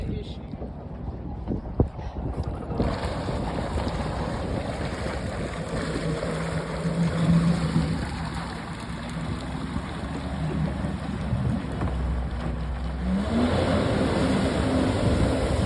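Jet ski engine running at full power after a spark plug fix, a steady loud drone over wind and water noise throughout, with a voice briefly heard.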